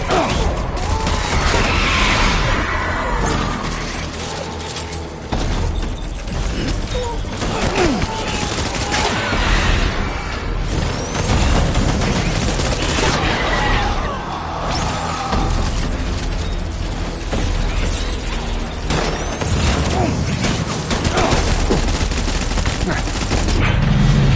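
Dense, continuous volleys of rapid gunfire from soldiers in the video game Death Stranding, loud and close, with bursts overlapping throughout and scattered mechanical clatter in the mix.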